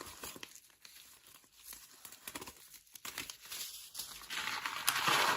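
Dry plastic vegetable seed packets crinkling and rustling in short bursts close by, growing louder and denser toward the end, with no voices.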